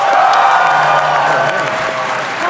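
A fan audience at a Supergiant Games event claps and cheers together, a fairly loud, sustained burst that slowly tapers off.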